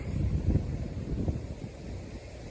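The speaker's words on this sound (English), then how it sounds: "The initial powerful burst of wind is called the gust front." Gusty wind from a storm gust front roars and buffets the microphone in low rumbling surges, strongest early on and easing slightly toward the end, with no voices.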